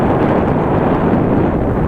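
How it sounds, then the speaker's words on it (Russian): Loud, continuous headwind buffets the microphone in southern Vietnam, producing a heavy, rumbling roar with no other clear sounds. "Ветер встречный сегодня такой."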